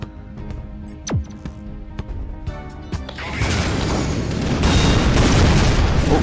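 Shots and explosions from the Shellshock online tank game: a few sharp bangs with a whistling projectile early on, then a dense, loud, sustained roar of blasts and rumbling debris.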